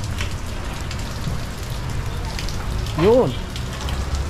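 Steady rain falling at an open public market in Victoria, Philippines, on a rainy December day, a constant broadband hiss of drops throughout with a brief voice interjection near the end.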